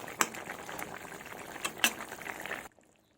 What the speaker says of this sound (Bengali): আর একটু কিছুক্ষণ ফুটিয়ে নেব ভালোভাবে।